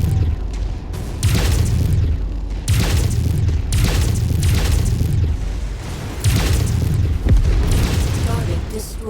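Explosions of a destroyed target in MechWarrior 5, several loud booming bursts in irregular succession over continuous rumbling battle noise, with a voice speaking among the blasts.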